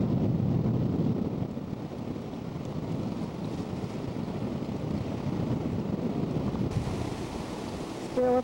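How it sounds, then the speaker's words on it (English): Ocean waves seen from a pier: a steady, broad wash of surf mixed with wind rumble, loud and continuous with no voices. "Thought I'd watch the waves from the other end."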